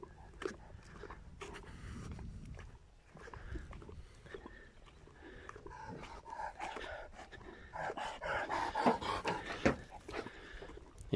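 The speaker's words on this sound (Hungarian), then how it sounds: "Ők már ilyenkor is lihegnek itt a déli oldalon." Dogs pant close by on the sunny south side of a frozen yard, quick rhythmic breaths mixed with faint rustling and movement, growing busier toward the end.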